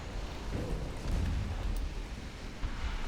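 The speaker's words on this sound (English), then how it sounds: "One torpedo hit." Low rumbling explosion of a torpedo striking a warship in the naval battle game Ultimate Admiral Dreadnoughts, a dull boom that swells and rolls on for a few seconds at moderate loudness with no talk over it.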